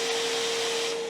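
Metabo battery-powered wet/dry vacuum cleaner running steadily and loud at close range, a continuous whine with a constant tone throughout, no talk.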